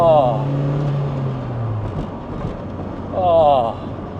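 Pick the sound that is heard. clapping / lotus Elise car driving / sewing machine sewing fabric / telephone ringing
lotus Elise car driving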